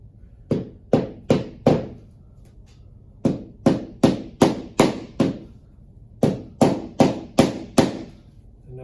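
Engineered water-resistant wood flooring planks being tapped and snapped together during installation: three groups of sharp, close knocks, each burst three to five evenly spaced hits, with short pauses between groups and no talking.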